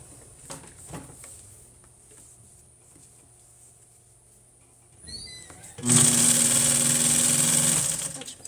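An upholstery sewing machine starts up after a quiet stretch and runs loud and close in a steady, fast, continuous whirring buzz of stitching for the last few seconds.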